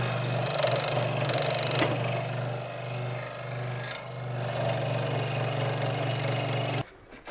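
A power sander runs on a workpiece with a steady, loud motor drone and a gritty rasp on top, holding for about seven seconds before cutting off abruptly.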